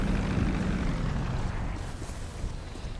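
A propeller airplane engine in GTA V drones steadily and loudly throughout, a dense, continuous roar that eases slightly toward the end, with no talk over it.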